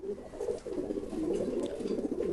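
Pigeons at a breeder's sale in Lahore coo in a steady, continuous low warble at close range, with no talking over them.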